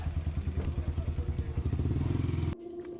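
A motorbike being ridden on a farm gives a close, loud, chugging engine with a rapid pulsing beat that cuts abruptly to a quieter rumble near the end.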